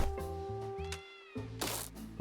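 Cats meow repeatedly in a video game of melon cats and a fat cat, the short mews sitting over steady looping game music.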